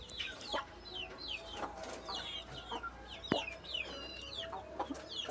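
Roosters and hens at a house doorway cluck repeatedly in short, irregular bursts, close and clear, with occasional sharper calls rising above a quiet rural background.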